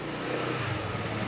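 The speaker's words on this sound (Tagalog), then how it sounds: "walang battery pero hindi namamatay yung makina" A motorcycle engine, revived after two years in a shop, runs without a battery, keeping a steady rough mid-pitched idle close by.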